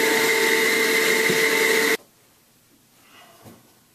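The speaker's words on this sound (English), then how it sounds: "Take the vacuum with the brush attachment around, vacuum out the closet shelves, the windows, the baseboard, the heater." A vacuum cleaner with a brush attachment runs over closet shelves, windows, baseboards and a heater while a room is prepared for painting. A loud, steady whine fills the first two seconds, then cuts off abruptly, leaving near silence.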